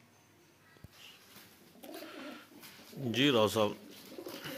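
Pigeons coo close by, with a few soft, warbling calls that swell into a stronger burst near the end, mixed in with someone speaking briefly.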